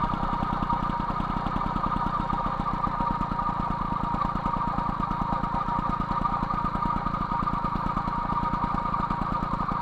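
MBK 51 Magnum Origine moped engine with a 15 PHBG carburetor idling during carburetor tuning, a steady fast putter close by, even and continuous throughout, with no voices.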